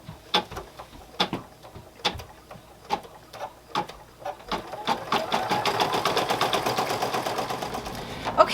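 An embroidery machine stitches a felt toy dinosaur in the hoop, making a close, mechanical rhythmic ticking of stitches that starts spaced out and then speeds into a steady, rapid run.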